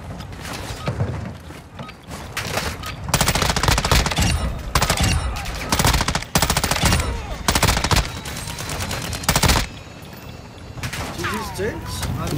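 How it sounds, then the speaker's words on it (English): Rapid machine gun fire from a boss enemy in the Call of Duty DMZ game, loud stuttering bursts with short gaps, mixed with mechanical clanks and a player talking over it. "Boss is shooting me."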